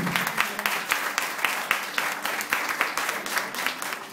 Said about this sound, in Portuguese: Jesus merece uma salva de palmas por isso.